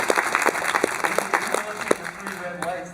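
Theater audience at a Q&A with two guests at the El Capitan Theater claps in a broad, steady wash, with individual sharp claps standing out and some talk mixed in.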